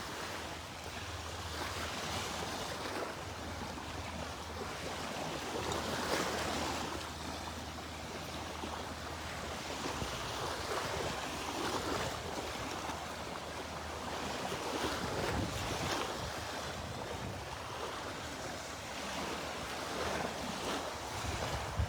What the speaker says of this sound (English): All of a sudden, we just got this series of little waves rolling up here.